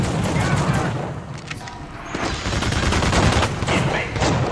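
Bursts of gunfire from The Suffering as an enemy is shot, a dense, continuous volley of loud cracks that fills the whole stretch, with a voice talking over part of it.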